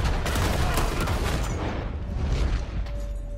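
A rapid, dense volley of gunfire in the video game Red Dead Redemption 2, loud and overlapping at first, then thinning to scattered shots as it fades.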